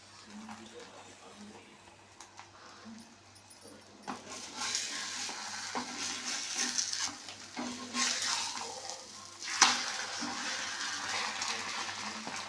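An egg chapati fries in oil on a pan, starting faint and then rising into a close sizzling crackle with scraping stirs, while someone speaks quietly over the cooking.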